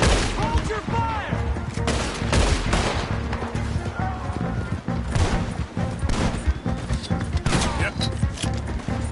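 Heavy sustained gunfire in a Red Dead Redemption 2 shootout, overlapping shots and volleys crackling continuously near and far for the whole stretch, with shouted voices woven through the battle.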